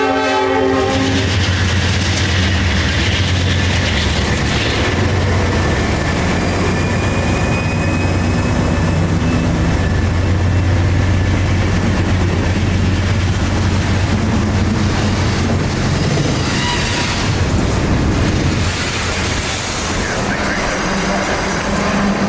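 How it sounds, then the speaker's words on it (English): A CSX freight train rolls past near a road crossing beneath a highway overpass near Tropicana's yard in Bradenton, loud and continuous with steady wheel rumble and clatter, a long horn sounding partway through and voices talking underneath. "Our train would have to pull south of the yard tracks and shove the train in."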